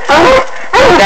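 Coon hunting dogs, including a spotted puppy resembling a bluetick, barking outdoors, two loud close barks about half a second apart.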